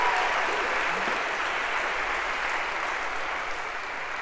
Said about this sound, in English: So a round of applause for Josh